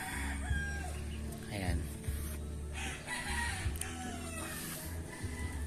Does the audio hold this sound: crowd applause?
no